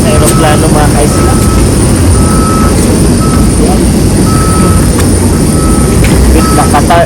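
Steady airplane engine roar while boarding a Qatar Airways flight, loud and continuous, with faint intermittent beeps over it and people talking nearby.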